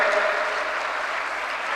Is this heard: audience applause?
yes